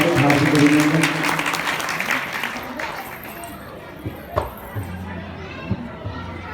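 Applause from the audience at a religious katha discourse gathering in a pandal welcomes the musical group. The clapping is dense and fairly loud at first, then fades into crowd murmur and children's voices with a few scattered claps.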